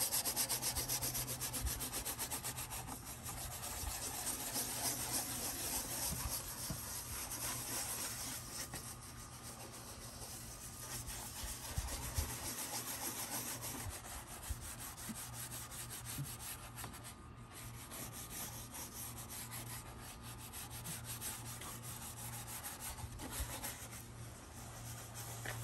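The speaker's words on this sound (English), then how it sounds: "we're just going to rub this in and kind of scratch off all this." A toothbrush scrubs paste on a car headlight with continuous close rubbing and scratching strokes in a steady back-and-forth rhythm, with no voices.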